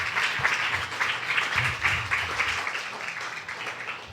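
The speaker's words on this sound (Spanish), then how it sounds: "Dale un aplauso al Señor." A church congregation at a discipleship class claps together in a steady, moderately loud round of applause with a faint hum of voices beneath it.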